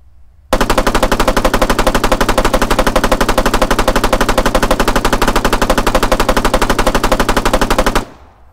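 A Spar 16 5.56mm rifle in Arma 3 fires a long unbroken automatic burst of rapid, evenly spaced loud shots lasting about seven seconds, then cuts off abruptly.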